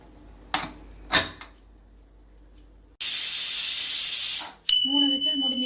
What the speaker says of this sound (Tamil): ஸ்டவ் ஆஃப் பண்ணிட்டு ஸ்டீம் போற வரைக்கும் வெயிட் பண்ணுங்க